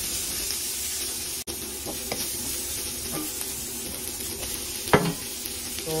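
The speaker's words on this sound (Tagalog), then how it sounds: "Tapos luya, ilagay natin yung sibuyas at bawang." Ginger, onion and garlic sizzling in hot oil as they are sautéed until brown, a steady frying hiss with occasional scrapes and knocks from stirring, one sharp clack from a utensil against the pan.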